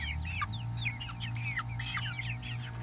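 Chickens in a coop cluck in quick, overlapping chirpy calls, close and steady throughout, over a low droning hum and with no talking.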